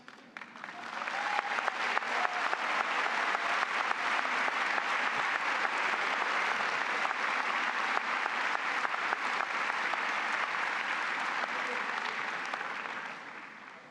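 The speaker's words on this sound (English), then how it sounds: "Can I get a 2 claps and a J-High?" A large audience at a Jesuit High School commencement gives sustained, even applause that swells in and holds steady for over ten seconds before fading, heard from a distance.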